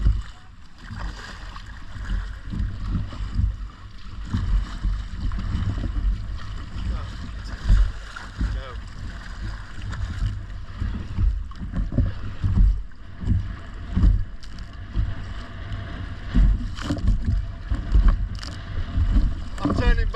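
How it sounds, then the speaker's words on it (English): Strong wind buffets the microphone in a steady low roar on the North Sea off Cleethorpes, with gusty swells and water sloshing around a small inflatable kayak throughout. "this is a bit rough, as in too windy"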